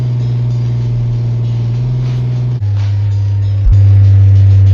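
Republic Services Autocar ACX front loader garbage truck with an Amrep body, its diesel engine droning steadily up close, the pitch stepping down and then rising into a louder, higher hum near the end; no voices.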